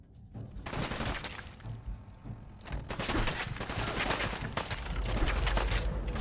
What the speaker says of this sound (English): Oh shoot, they're shooting me from over there.